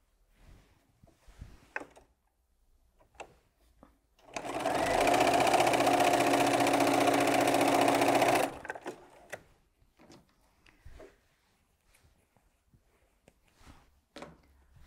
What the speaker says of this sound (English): I would do all of my machining so I can just sit here and chain piece all of mine